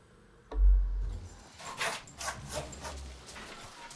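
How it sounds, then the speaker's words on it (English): Fenris, a dog, makes a soft low vocal sound begging for attention, a brief whimper followed by quieter murmuring noises close by in Avatar: Frontiers of Pandora. "My dog, Fenris, wants attention."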